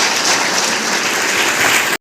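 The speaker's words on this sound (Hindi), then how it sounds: "फिर ताली बजाओ" Loud, dense applause from a crowd of schoolchildren at a district collector's motivational event, steady clapping filling the full two seconds before stopping abruptly.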